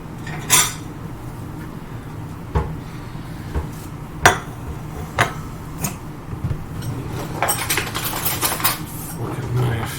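A fork and knife clink sharply against a plate at a table, a handful of distinct near clicks and scrapes spaced apart over quiet room hum.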